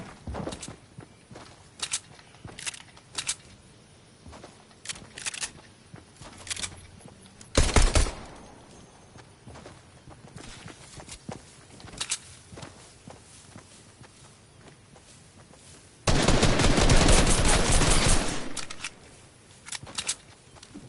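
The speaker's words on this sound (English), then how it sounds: "I gotta shoot at them." Gunfire in a shooting video game: a long run of sharp, close shots with a few short bursts and one heavy sustained volley near the end, with occasional footsteps between.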